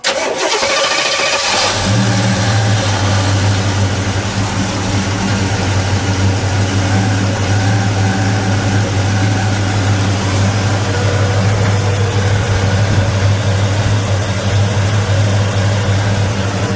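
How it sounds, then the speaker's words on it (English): A 1971 Oldsmobile 442 with its 455 V8 cranks, catches and settles into a loud, steady idle with a deep, even rumble that holds nearly unchanged to the end. "let's fire it up, shall we? We'll let it idle."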